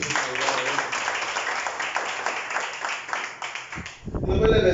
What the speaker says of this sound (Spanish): regalemos un aplauso.